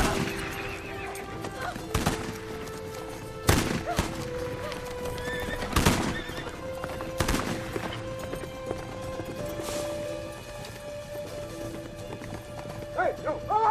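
Horses whinny and hooves clatter amid sharp gunshot cracks at irregular intervals, with shouting voices over a tense, busy scene.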